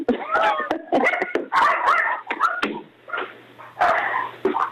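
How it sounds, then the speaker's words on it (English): A dog in a home office barks, yips and whimpers close by in repeated excited bursts, with brief pauses between outbursts and a faint hum underneath. "Let me get my dog out of the office."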